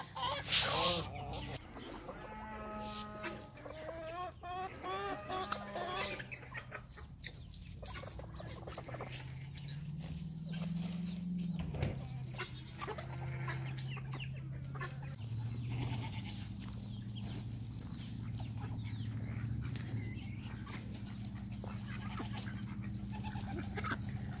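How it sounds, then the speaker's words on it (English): Guinea fowl calling outdoors among other farm birds: a busy, close chorus of harsh, rattling cries and chatter that runs continuously, with overlapping calls and steady background noise. "Here are the guineas that I was telling you about earlier."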